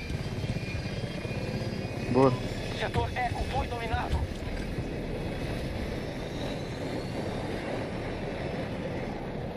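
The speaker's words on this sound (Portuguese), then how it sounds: "tem um helicóptero aqui, ó. Quer ir de helicóptero?" Helicopter in an Xbox video game, its steady rotor and engine drone running throughout the clip beneath excited players talking over the game sounds.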